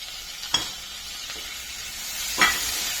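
Tomato, green chili and garlic sauté in a pan for squid fry, a steady soft sizzle broken by a few brief stirring scrapes, close and alone.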